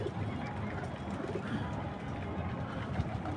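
Pigeons gathered at their loft at evening feeding time, a dense continuous murmur of cooing and rustling wings, close and steady with no clear voices.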